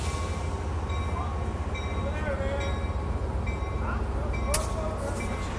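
Amtrak San Joaquin train number 712 pulling out of Oakland Jack London Square station, a steady low rail rumble with faint squeals and a brief sharp burst near the end, with voices talking over it.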